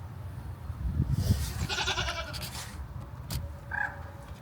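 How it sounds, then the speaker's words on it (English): Goats bleating inside a goat barn at a Dutch farm park, a couple of short calls over a steady background rumble and rustle. "Hello, little goat."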